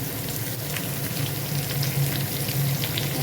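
Taro stolons go into browned onions in hot oil, producing a steady, fairly loud frying sizzle that keeps going without pause.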